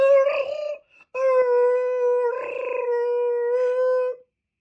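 A voice imitates the Jurassic Park T-Rex roar, mixing elephant-trumpet, growl and yell qualities: a short loud tonal bellow, a brief pause, then one long sustained roar that wavers and swells before cutting off, with no other sound.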